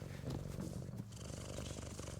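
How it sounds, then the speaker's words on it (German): A cat purrs while being petted in the video game FERA - The Sundered Tribes. The soft, rumbling purr pulses steadily and continuously, close and alone with no talking. "Katze, komm, wir streicheln mal die Katze"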